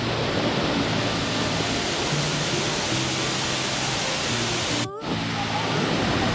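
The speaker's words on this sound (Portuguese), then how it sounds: "São 40 metros de queda e é a maior cachoeira do parque." Véu de Noiva waterfall in Itatiaia National Park, a 40 m drop, roaring as a broad, steady rush of falling water close by, with a brief dip near the end and low rumble underneath.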